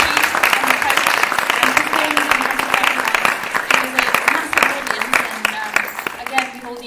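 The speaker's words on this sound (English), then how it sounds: "So another hand of applause for these lovely children" An audience claps for children who performed at an Easwaramma Day celebration, steady dense applause throughout with a voice speaking over it.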